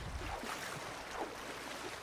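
A rowboat glides over open water in Red Dead Redemption 2, with soft lapping waves and faint splashes from the oars, quiet and steady for a couple of seconds.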